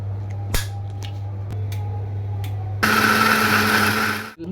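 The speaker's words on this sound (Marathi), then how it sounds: "हे सगळं आता मिक्सरला फिरवून घेते मी" A kitchen mixer grinder blending custard apple pulp with sugar and milk, starting with a few clicks and taps under a low motor hum, then roaring into a loud, steady whirr before cutting off.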